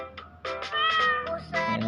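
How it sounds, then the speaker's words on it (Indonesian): A plump pet cat meows several times in quick succession, close and fairly loud, with short drawn-out harmonic cries and no talking. "Ku punya kucing gemuk."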